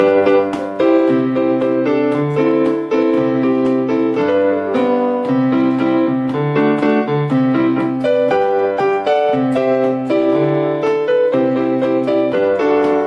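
Piano plays sustained chords in the low register while a melody rings out on top, steady and full for the whole stretch, with no voices.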